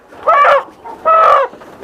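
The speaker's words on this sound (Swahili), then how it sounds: "Naenda kupewa kuku." A chicken being handed over to be weighed lets out two loud, close squawks, each about half a second long, separated by a brief quieter gap.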